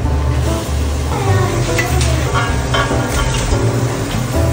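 Tomato sauce with a bay leaf sizzles loudly in a pot, a steady close crackle and bubbling with intermittent scraping stirs and clinks throughout.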